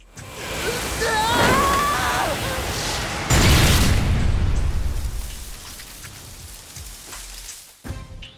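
Bomb blast in a film scene of a deadly island survival game: a sudden heavy boom hits after a stretch of rumbling noise and faint whistling tones, then a long roaring, crackling decay and a short sharp burst near the end.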